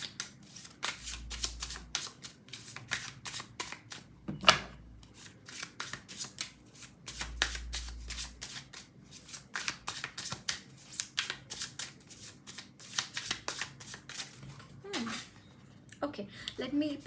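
Tarot cards are shuffled close up in quick, crisp riffling bursts repeating throughout, with soft low thumps and a faint voice in the background.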